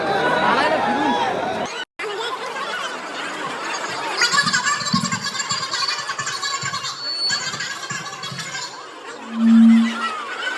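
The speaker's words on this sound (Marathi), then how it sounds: "फुल गर्दी आहे, मजबूत गर्दी लागली." A large, dense crowd at a Ganpati festival celebration chatters and laughs continuously nearby, with many overlapping voices and a brief dropout partway through.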